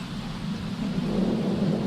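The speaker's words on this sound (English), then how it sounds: "the garden looks so sad when it's raining though" Rain and rolling thunder in The Sims, a steady low rumble under a soft rainy hiss, moderately loud and continuous with no talking.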